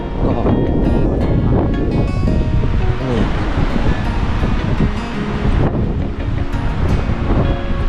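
Water rushes through the Mekong River rapids at Kaeng Kabao in Mukdahan while strong wind buffets the microphone. The roar is loud, steady and close, with gusty rumbling throughout.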